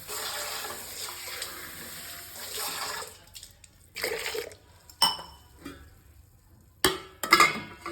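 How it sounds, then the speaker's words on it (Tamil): Water sloshing and splashing as broken turkey berries are rinsed by hand, with steady running water at first, then short bursts of swirling and clinking close by. "உடச்ச இந்த சுண்டைக்காயில் தண்ணி ஊற்றி லைட்டாக ஒரு அலச அலசி எடுத்துக்கலாம்"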